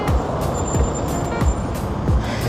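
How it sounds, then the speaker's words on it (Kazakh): Broadband rumble and hiss of a city bus in Astana, with a few soft thuds and brief hissy bursts in a steady, close mix. "Қазір тағы бір автобусқа мінейін."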